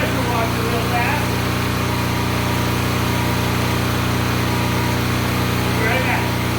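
A pressure washer's small engine runs at a steady, loud drone for the whole stretch, with some faint background sound over it.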